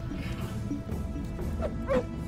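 A dog in The Warlock of Firetop Mountain video game gives a few short barks and yips over a murky game background, with the last barks louder than the first.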